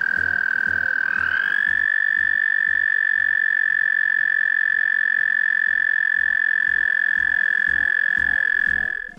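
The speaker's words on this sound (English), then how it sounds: "what an actual toad sounds like" A toad gives one long, loud, steady high trill that rises briefly at the start and then holds level for about eight seconds before cutting off, with a faint higher harmonic above it.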